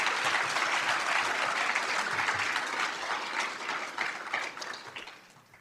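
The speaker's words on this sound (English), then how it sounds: "if we can give her a round of applause" A crowd at a career and technical education award ceremony applauds for a student, a dense burst of clapping that holds steady and then thins out toward the end.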